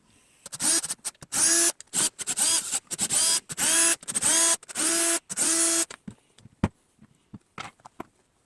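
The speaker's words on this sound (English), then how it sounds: "I cracked all of these screws loose, and so I'm just gonna kind of crank them out." Loosened screws being cranked out of the front cover of a 1999 Sundance Cameo hot tub pump, a run of about eight short, regular buzzing bursts from a driver, close and fairly loud, followed by scattered small clicks and handling noises.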